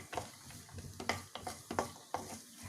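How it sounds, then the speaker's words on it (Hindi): Cashews for ragi chivda are stirred and roasted in a pan, with quiet, irregular scraping strokes over a faint sizzle. "काजू लिए थे वो डाल दूंगी, चला दूंगी, इसको थोड़ा रोस्ट होने देंगे"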